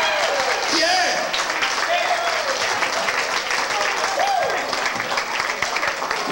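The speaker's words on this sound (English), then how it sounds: "Give the band a big round of applause, everybody" Wedding guests applaud the band at a reception, a steady crowd clapping throughout with cheers and voices mixed in.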